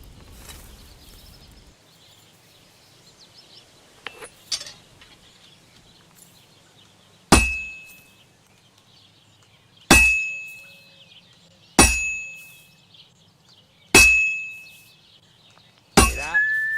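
Hammer blows on hot metal at an anvil in Kingdom Come: Deliverance II: five loud, ringing metallic clangs spaced a couple of seconds apart, each decaying slowly, after quieter handling sounds.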